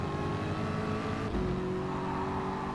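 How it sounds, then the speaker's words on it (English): Ford GT race car in Gran Turismo Sport on the Sardegna road course, Group 3, flat out: a steady, loud engine drone with harmonic tone held throughout, a brief shift-like dip midway, no talk. "we are just going to drive flat out in the Ford GT"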